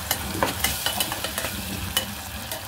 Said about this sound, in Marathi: आणि मस्त हलवून घ्यायचं।